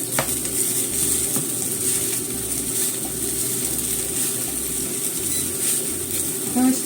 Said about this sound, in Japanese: これをフライパンで焼きたいと思います。 フライパンにひっつかないようにちょっと油引きます。 そして焼きますよ。